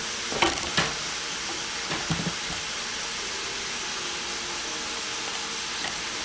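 Oxtail pieces browning in a pan for a home-cooked dish give a steady broadband sizzle throughout, with a few soft clatters and stirring sounds near the start and again around the middle.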